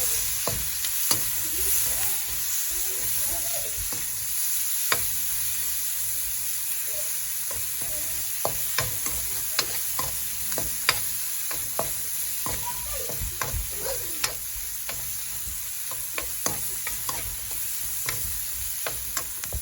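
Continuous close sizzling of tomatoes frying in a hot tempering, with scattered crackles and occasional spatula scrapes over a steady hiss.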